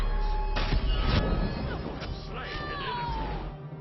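Bastet, the Egyptian cat goddess in the video game Smite, gives a short, sharp meow that bends downward, mixed in with game impacts and clatter.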